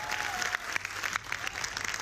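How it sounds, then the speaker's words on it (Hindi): Clapping from a group of students rises and falls in a short burst, fairly faint and slightly distant, without anyone speaking. "एक बार तालियां आप लोग भी बजा लीजिए अपने लिए"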